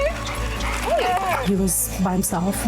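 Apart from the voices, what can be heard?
dog barking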